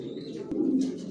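Racing pigeons in a loft give a low, soft coo close by, with a faint murmur of other birds around it.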